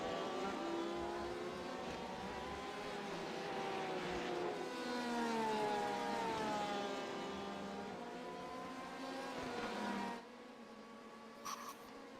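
Porsche race cars at the front of a field, multiple engines droning and shifting pitch together in a steady wash of revving, moderately faint, then cutting away near the end.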